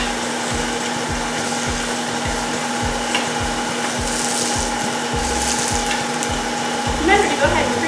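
Vegetables tossed in olive oil, salt and pepper sizzling in a very hot small pot, a steady close frying hiss with a low electrical hum and rhythmic scraping or stirring knocks throughout.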